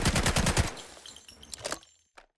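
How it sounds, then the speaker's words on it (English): Hip-fire automatic gunfire in the video game Delta Force: a rapid, loud burst of shots that tails off into scattered softer clicks and handling noise, ending in near silence. "So, hip fire spread."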